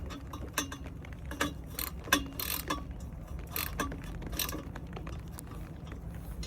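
Metallic clinks and clanks from bolts being lightly tightened on a PLM axleback exhaust fitted to a first-generation Subaru BRZ/Scion FR-S/Toyota 86, with scattered sharp ticks over a steady low rumble, fairly close, no talk.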